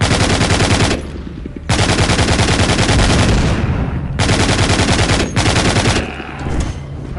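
Rapid gatling gun fire in the zombie shooter game The Walking Zombie 2, loud sustained bursts of dense shots broken by brief pauses, close and dominant.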